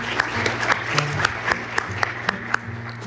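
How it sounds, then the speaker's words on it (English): A conference audience claps at a live event, a brief burst of many hands with sharp individual claps standing out over a steady low hum in the room. "I hope I get the applause too"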